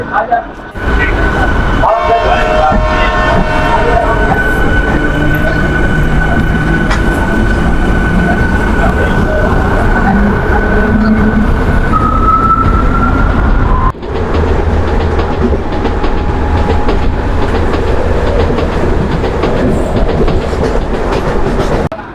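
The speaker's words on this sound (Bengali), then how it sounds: "এক মিনিটের হল্টের সাথে ট্রেনও কিন্তু রানীগঞ্জ থেকে ছেড়ে দিল আর হর্ন দিয়ে দিয়েছে ছেড়েও দিল" A local commuter train pulls out of Raniganj station at night and sounds its horn, long sustained horn tones over loud rumbling and clattering wheels as it gathers speed.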